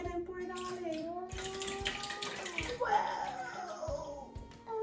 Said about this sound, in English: Go ahead and pour it all in.